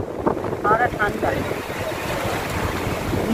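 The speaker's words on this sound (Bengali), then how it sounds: "হাওয়া দিচ্ছে, হাওয়াটা ঠান্ডা।" Cold wind rushes over a mountain road, buffeting the microphone in a loud, rumbling low roar, with brief voices near the start.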